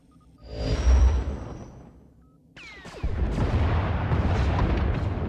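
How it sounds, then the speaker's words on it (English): Turbolaser and missile fire from a Thranta-class warship in Star Wars: The Old Republic, a deep booming blast that swells and fades, then a sharp whooshing streak followed by a sustained, dense roar of explosive fire. "Enemy is firing. Turbo lasers, missiles, and what looks like transport pods."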